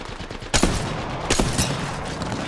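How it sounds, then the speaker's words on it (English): Gunfire in the video game Apex Legends: a few sharp, loud shots cracking close by over a busy background, a couple of blasts spaced within a short burst. "Who's shooting at me?"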